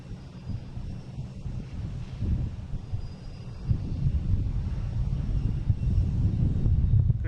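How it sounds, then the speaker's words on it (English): A Southwest Boeing 737-800 from Denver arrives at Boston Logan airport. Its jet engine rumble is low and distant and swells gradually under steady wind noise. "We have Southwest coming in from Denver, 737-800."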